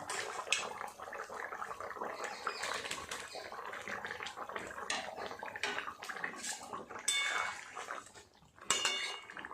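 A metal lid lifts off a cooking pot of simmering vegetables and fried fish, with scattered clanks and clatters of cookware over bubbling, watery kitchen noise, loud and close with no voices.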